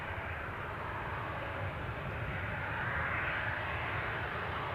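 A fixed-wing airliner flies at Newcastle airport, its engines giving a steady, distant broadband roar that holds evenly throughout with no talk.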